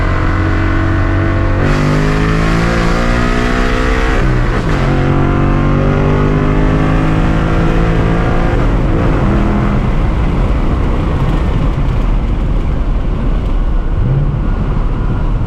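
A 500hp S650 Mustang GT V8 engine revs hard and steadily, its deep rumble rising and falling in pitch with throttle blips, loud and close throughout.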